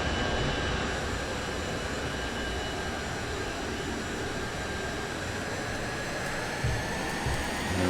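The jet engine of a Leonardo M-346 Master trainer in Microsoft Flight Simulator roars steadily at full power, a constant broadband whine and rush that holds for the whole stretch.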